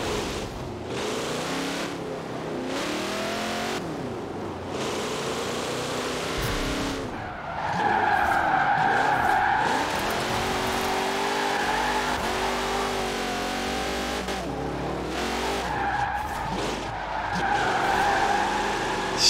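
Barrett Jackson Bubble Top car in Forza Horizon 4 with a direct, unmuffled exhaust, its engine roaring and revving in the game while the tires skid and squeal, loud and steady throughout.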